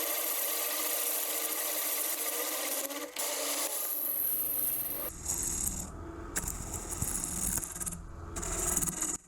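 Gouging the outside of a segmented wooden vase spinning on a lathe, a continuous rough rubbing and scraping of the tool against the wood, loud and close, shifting to a choppier, more uneven cut partway through, with no voices.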